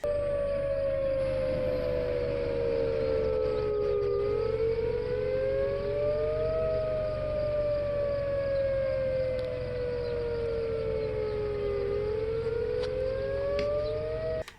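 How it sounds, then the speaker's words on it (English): A loud outdoor tornado warning siren wails steadily at an IndyCar race, its pitch rising and falling in slow sweeps, with no voices present. "when the tornado siren's tone changed, it was oh, this is actually something"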